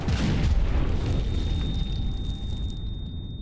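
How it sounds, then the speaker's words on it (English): A loud explosion in Rainbow Six Siege with a deep, rolling boom that fills the low end and stays dense for several seconds before easing off slightly, with a thin high tone held underneath. "Random explosions always good."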